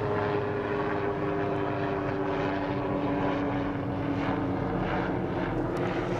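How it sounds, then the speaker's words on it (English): A helicopter passes overhead, its steady, droning engine roaring continuously, a low propeller-like hum holding constant throughout with no voices. "There's a helicopter going by"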